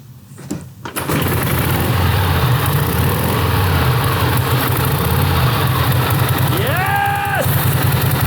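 An 80-year-old Harley Panhead motorcycle engine catches after a kick start and settles into a loud, steady, loping idle, close by, with a brief rising whine near the end.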